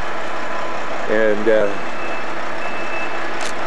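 Trucks idle at a construction site by a river, a steady low engine drone with a short burst of reversing beeps in the middle, while a person speaks briefly over it.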